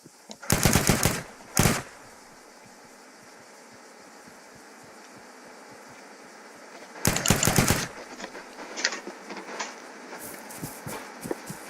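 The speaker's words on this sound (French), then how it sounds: "Je lui tire dessus celui-là." Automatic gunfire rips out in a video game, with a long burst and a short one near the start and another sustained burst later, followed by scattered lighter shots over a steady background hum.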